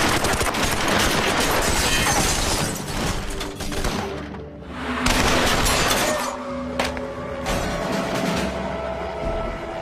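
Automatic rifle fire in a street shootout during the Los Angeles bank robbery, heard as loud, dense, continuous bursts of shots with echoing cracks and a brief lull midway.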